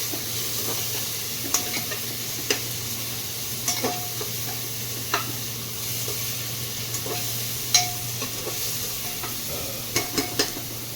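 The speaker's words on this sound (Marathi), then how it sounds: "आणि आता आपण त्याच्यामध्ये 1 चमचा हळद घालणार आहोत म्हणजे आणि 2 चमचे पूर्ण भरून मीठ घालणार आहोत। व्यवस्थित हलवून घेणार आहोत।" Turmeric and salt are stirred into frying ghee for a village-style rice khichda, a constant close sizzle broken by sporadic spoon scrapes and taps against the pan.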